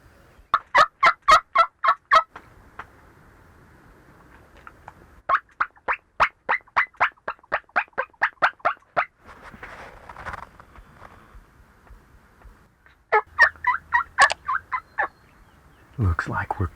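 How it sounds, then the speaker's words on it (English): Rio Grande wild turkey toms gobble in South Texas, loud and close, in several rapid rattling bursts separated by short pauses, with a softer rustle between calls. "Looks like we're calling in some toms."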